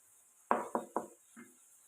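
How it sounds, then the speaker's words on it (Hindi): A spoon clanks and scrapes in a pan while masala with black pepper and salt is stirred and roasted: three quick, fairly faint knocks in a row, then a softer fourth after a pause. "इसे अच्छे से मिक्स करके 3 से 4 मिनट ये मसाला तैयार कर लें,"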